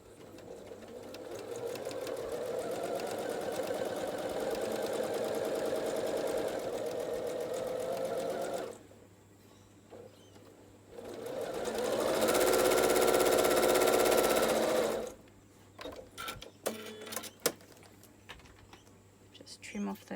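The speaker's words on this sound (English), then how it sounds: "Now just sew down the 1/4 inch." Sewing machine running steadily as it stitches a quarter-inch seam through fabric, a loud continuous whir in two long bursts separated by a brief pause, followed by a few light clicks and handling sounds.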